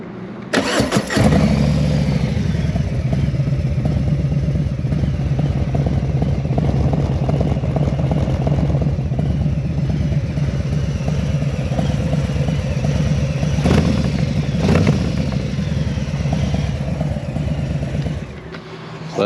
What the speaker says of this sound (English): I'll let you guys hear the new RSD exhaust we put on.